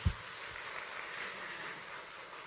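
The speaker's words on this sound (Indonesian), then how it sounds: "Boleh tepuk tangan semuanya." Steady applause from a large audience at a leadership event of about 500 leaders, a dense continuous patter of clapping at moderate level from start to finish with no talk over it.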